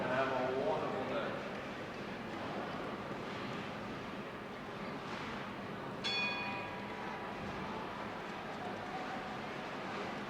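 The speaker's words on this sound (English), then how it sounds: "when you hear the sound of the bell, you can begin your competition" A bell rings once at a women's team bowling championship, its bright decaying tone rising over a noisy, busy bowling-alley crowd.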